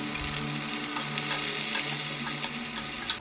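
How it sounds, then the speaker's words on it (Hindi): Potatoes are stirred and fried in a pan with a steady, close sizzle under light scraping from the stirring, continuous and fairly loud. "आलू को थोड़ी देर चलाने के बाद इसमें सारे पालक भी डाल दी।"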